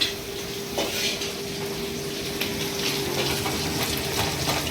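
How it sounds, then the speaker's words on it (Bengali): Hilsa fish heads fry in oil in a pan in a home kitchen, producing a loud, continuous, close-up sizzle with a faint steady hum and occasional light clinks of utensils. "মা এদিকে মাছ ভাজছে"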